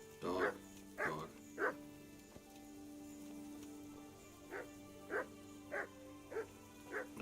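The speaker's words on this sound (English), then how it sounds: "I hear you, dog." A dog barks in the medieval video game Kingdom Come Deliverance, a series of separate barks coming in two clusters with a pause between, fairly distant over a faint ambient background.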